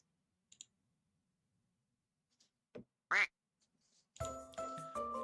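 A cartoonish duck quacks once, loudly, in a horror video game demo, amid scattered clicks and ahead of a burst of tonal game music.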